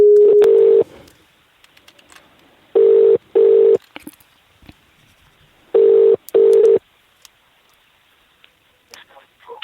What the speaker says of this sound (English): It's the phone call, unedited